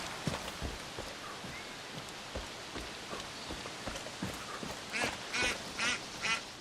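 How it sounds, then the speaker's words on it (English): A duck in the open-world shooter Far Cry 5 quacks four times in a row near the end, loud and close, after a stretch of soft patter and scattered ambient ticks. "What up, duck?"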